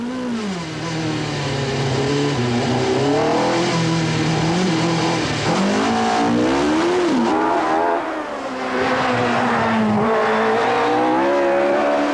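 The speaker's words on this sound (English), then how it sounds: "the drivers attempt to warm their tyres for better grip" Hill climb race cars revving hard as drivers warm their tyres, the engines loud and continuous with rising and falling revs throughout.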